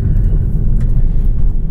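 A 2022 Volkswagen Taos turbocharged crossover accelerating, a steady low engine and road rumble heard from inside the cabin, continuous and moderately loud with no voices.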